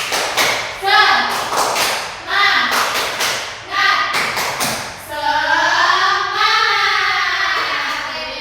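Children in a first-grade maths class do a rhythmic spirit-clap chant, with several quick group clap bursts in a pattern, mixed with their chanting voices, then a sustained sung chant toward the end.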